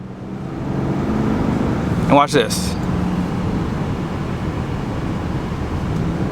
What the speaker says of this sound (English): I'll show you again here. I'm gonna wide open throttle.